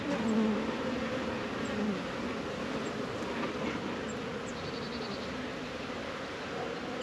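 Honey bees buzz steadily and continuously around an open hive during an inspection, a dense, even drone close by with no voices over it.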